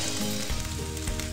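Fried rice (nasi goreng) without egg sizzling steadily in a hot pan, a close, continuous frying hiss with soft scrapes and bumps as a spatula turns it over.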